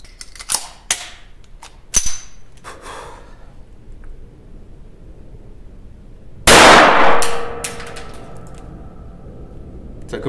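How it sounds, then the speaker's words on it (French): A Browning Buckmark .22 pistol fires in a rapid-fire attempt, giving a few sharp cracks spaced unevenly and then one loud, longer blast with ringing decay, heard up close with quiet breathing in the gaps. "On va en tenter 5 en tir rapide."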